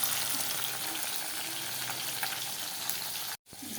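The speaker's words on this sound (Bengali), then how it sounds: "আর এটা হচ্ছে যে ফলি মাছগুলো ভাজা হচ্ছে।" Phali fish fry in a pan with a dense, steady sizzling hiss that holds evenly, then cuts out abruptly for a moment before resuming.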